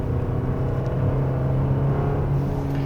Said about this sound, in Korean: 높은 RPM에서는 엔진 소리가 다소 카랑카랑 하죠